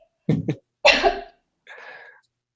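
A person coughs in three quick, close bursts: two short hacks, then a longer, harsher one, with a softer throat-clearing cough trailing after a pause.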